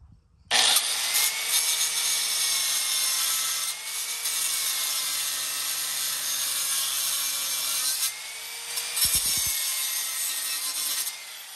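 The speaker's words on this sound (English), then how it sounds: "it'll let you take the material off faster, and thicker blade cuts a bigger groove" Cutting blade grinding through a steel leaf spring hanger on a 2018 Grand Design trailer frame: a loud, close, steady high-pitched grinding whine running for about eleven seconds, with a brief dip and a restart near the end.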